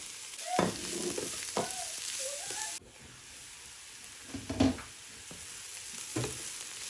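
Onions and green herbs frying in a pan, with a steady sizzling hiss broken by several scraping stirs of the spatula, close and fairly loud, with no talking.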